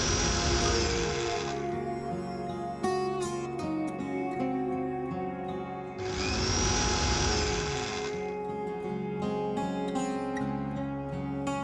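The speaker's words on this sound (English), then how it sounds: "Transfer to grinding jar. Grind to fine powder." A mixer grinder jar pulverizes roasted cumin seeds into powder with a loud, high-pitched whining roar, running in two bursts separated by a lower, rattling spin-down, close and alone.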